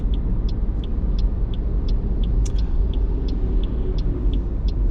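Steady in-cabin road and engine rumble of a car on a dual carriageway during a driving lesson, with a regular ticking indicator clicking over it; no voices.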